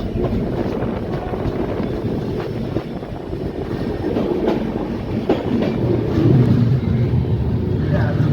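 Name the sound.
Hazur Sahib Nanded–Sri Ganganagar Superfast Express train arriving at Purna Junction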